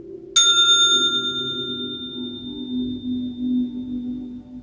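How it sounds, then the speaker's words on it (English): A single gong strike rings out near and clear at a meditative rest session, a bright metallic hit whose shimmering tones fade slowly over several seconds. "I'm going to start off with a gong"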